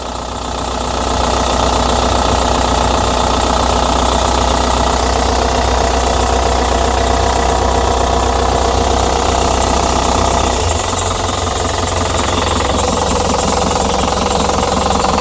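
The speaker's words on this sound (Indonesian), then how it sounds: "Oke, seperti ini untuk suara mesinnya." A 2014 Isuzu Elf NHR truck's diesel engine idles nearby, a loud, steady knocking clatter with a deep rumble that holds throughout, shifting slightly in tone partway through.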